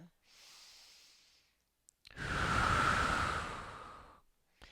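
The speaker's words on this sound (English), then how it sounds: "I'm going to exaggerate my breath because I want you to remember to be breathing." Exaggerated breathing during a resistance-band reformer exercise: a soft inhale, then a long, loud, breathy exhale, close to the mic, with no talking.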